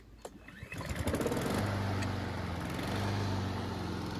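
A Honda GCV170 lawn mower is pull-started: a short rattling tug of the recoil cord, then the engine catches and settles into a loud, steady running drone close by.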